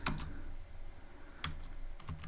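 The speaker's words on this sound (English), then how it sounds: "So I'm gonna type class" Python code is typed on a computer keyboard, a few quiet, close key clicks in short bursts over a soft background hum.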